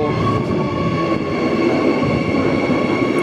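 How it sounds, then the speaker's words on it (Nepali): A train arriving at a station rumbles loudly and steadily nearby, its wheels and motors giving a constant roar with a faint high whine on top. "मेरो ट्रेन आयो"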